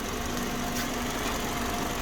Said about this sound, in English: I've opened the time base right up and then revved it up